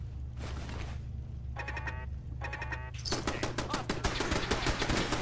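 Turret gunfire in the video game Fallout 4, a steady low hum broken by two quick rattling bursts, then heavier, louder sustained firing that fills the final seconds, close and without talking.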